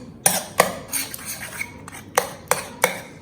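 A spoon mixing green paneer tikka marinade in a bowl, with sharp metallic clinks against the bowl at an uneven rhythm over soft wet stirring, close and clear.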